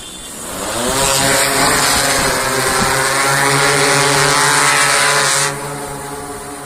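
Sky Air medicine delivery drone on a trial flight at Chaugan No. 4 in Chamba, a steady loud multi-rotor propeller whine building up and holding with a constant buzzing pitch, easing slightly near the end.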